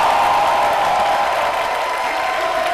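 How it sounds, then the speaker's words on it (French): A studio audience at a live midday television show claps steadily, a dense, even wash of applause that holds at constant strength throughout. "Merci beaucoup, public, de bien vouloir vous applaudir."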